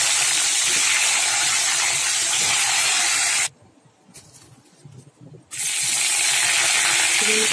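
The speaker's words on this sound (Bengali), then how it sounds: "ডিমগুলো ভেজে নেবো" Eggs fry in a pan in a home kitchen, giving a loud, steady sizzling hiss. It drops out for about two seconds midway, then returns just as strong.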